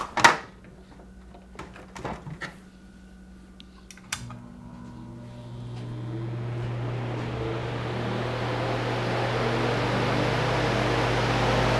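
A repaired, formerly noisy fan opens with a few faint clicks and knocks, then spins up into a steady airy whoosh with a low hum that grows louder and holds.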